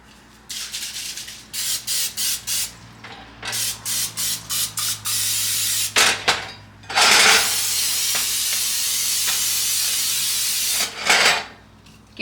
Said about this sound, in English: I'm just gonna spray it with like a Pam